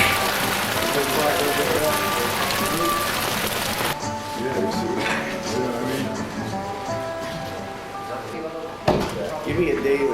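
Artificial rain on a film set, water forced through small holes in a rig, hisses and patters steadily on surfaces nearby while people talk over it and a few knocks sound.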